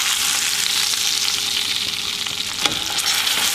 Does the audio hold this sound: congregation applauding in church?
no